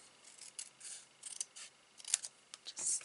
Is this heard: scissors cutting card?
yes